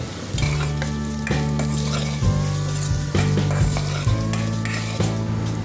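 A spoonful of ginger garlic paste fries in a pan for egg fried rice, a steady sizzle broken by repeated rhythmic scraping strokes of a spoon stirring it, close and loud with no talking.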